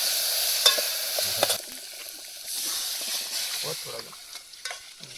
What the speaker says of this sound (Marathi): कांदा लाल फ्राय झालाय कांदा